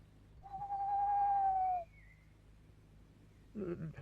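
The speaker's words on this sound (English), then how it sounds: "That blessed owl." An owl calls in a quiet outdoor setting: one clear, sustained hoot held for over a second, then a faint short follow-up and a brief low call near the end, distant and gentle.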